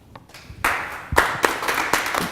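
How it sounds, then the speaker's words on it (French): A church congregation clapping their hands together, heard as a burst of sharp, close claps that thickens into a short, uneven round of applause. "nous allons joindre nos mains pour applaudir la parole du Seigneur"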